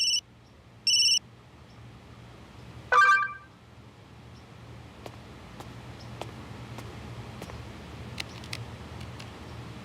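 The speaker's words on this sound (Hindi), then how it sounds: "अनीश का वीडियो कॉल अचानक? छोड़, मत उठा।" An electronic phone ringtone signals an incoming video call in a Hindi TV drama scene, with two short tonal bursts and then a louder one near the start before quiet room ambience with faint clicks.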